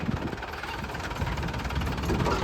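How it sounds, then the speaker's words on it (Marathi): A genset truck's engine idles nearby with a steady, rumbling, slightly knocking drone that holds constant throughout, with no voices. "इथं विकास दादानी गाडी आणली आहे"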